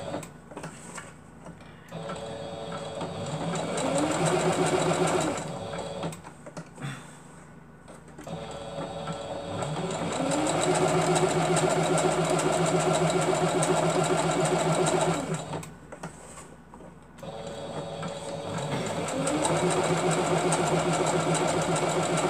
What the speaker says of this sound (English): it's like the sewing machine knows when to stop.